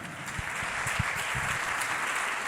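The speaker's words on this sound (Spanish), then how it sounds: "Dale un fuerte aplauso al Señor en esta tarde." A church congregation applauds, many hands clapping in a steady, fairly loud wash with a few low thumps beneath it and no talking.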